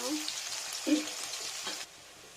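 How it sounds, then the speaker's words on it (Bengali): Bitter gourd sliced for sukto frying in hot oil without salt, a close, steady hiss and sizzle with a brief stirring scrape before the sound drops away abruptly near the end. "গরম তেলে উচ্ছেটা প্রথমে ভেজে নিতে হবে লবণ ছাড়া"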